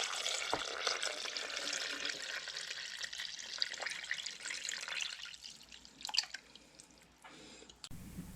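Broth poured into a crockpot for a tenderloin supper: a steady, close liquid splash and trickle that runs for several seconds, then thins into drips and a few light knocks before stopping.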